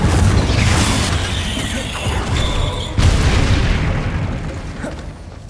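The Confringo fire spell explodes in Hogwarts Legacy, a loud, dense booming blast with crackling bursts over a steady rumbling game soundscape, a second sharp burst hitting midway, with a voice calling spell names.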